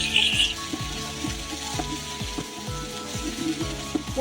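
Onions, about 500 g for a duck curry, fry in hot oil in a pot on a clay stove, giving a steady close sizzle broken by repeated light clinks and scrapes.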